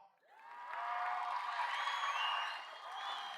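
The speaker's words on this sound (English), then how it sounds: "I'd expect people to clap just a little harder" A high school commencement crowd in the SFDR 2022 ceremony hall cheers and whoops after a remark. The sound swells quickly, holds as a bright mass of shouts and claps, then eases slightly near the end.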